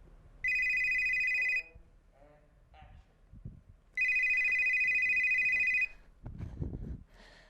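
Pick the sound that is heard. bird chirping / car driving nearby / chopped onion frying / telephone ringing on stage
telephone ringing on stage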